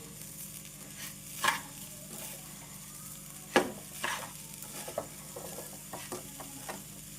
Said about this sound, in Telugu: దీన్ని ఆపకుండా తిప్పుకుంటూ లో ఫ్లేమ్లోనే దీన్ని ఇలాగా ఉడికించుకోండి